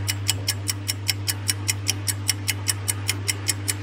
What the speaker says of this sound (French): Ce que vous entendez là c'est ma machine à laver.